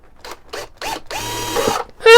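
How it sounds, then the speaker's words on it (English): Power drill boring into the wooden top of a handmade archtop ukulele: several short whirring bursts, then a longer steady grind, close and loud, ending with a sharp high squeal. "I'm drilling a hole in the front."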